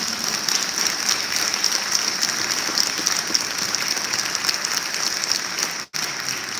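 A crowd applauds students at an academic recognition and scholarship ceremony in a dense, continuous wash of clapping that cuts out briefly near the end before resuming.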